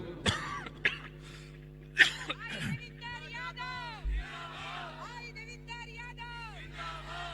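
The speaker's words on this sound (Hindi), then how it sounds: "ये ऐसी खांसी ना पहले सिर्फ केजरीवाल को आती थी।" A few sharp, harsh coughs and throat clearing near the start, followed by a person talking over a low hum at an election campaign public meeting in Delhi.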